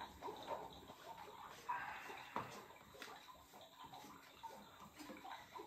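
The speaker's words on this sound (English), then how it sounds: "Oh, bubbling." Water bubbles and gurgles steadily inside a toy lab chamber, a faint, continuous watery churning with small irregular pops throughout.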